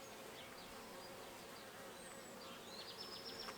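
Honeybees drone softly during an inspection of a hive colonised by a month-old swarm, a faint, steady hum with individual insects buzzing past more sharply near the end.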